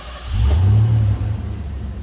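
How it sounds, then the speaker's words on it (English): A 1991 Ford Mustang LX convertible's 5-liter 302 high-output V8 fires up with a loud, deep rumble that swells briefly, then settles into a steady, throaty idle close by. "let's go ahead and fire this up so you can hear it run"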